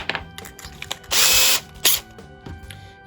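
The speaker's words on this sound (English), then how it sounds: "you can go as fast as the drill will let you, and it bottoms out" A power drill driving a drywall screw into sheetrock whirs in a loud sustained burst, then stops with a short second burst, amid clicks and handling noise.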